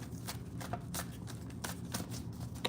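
Tarot cards being shuffled in quick riffling bursts, crisp papery flutters repeating close by with a steady low hum underneath.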